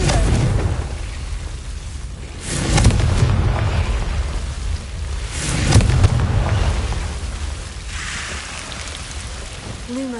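Confringo blasting spell explosions in Hogwarts Legacy on PS5, two heavy booming blasts a few seconds apart, each followed by a rumbling roar, over a constant loud ambient wash.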